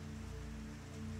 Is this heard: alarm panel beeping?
no